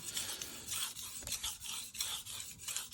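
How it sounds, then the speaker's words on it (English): A knife blade rasps back and forth across a wet King 300 splash-and-go water stone in steady, rhythmic strokes, close up and fairly quiet. "I know a lot of people like to hear the sound of the stone"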